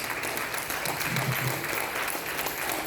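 An audience at the folk festival Ancient Belarus claps steadily for Malva, a Ukrainian song and dance ensemble, a dense, even ovation throughout.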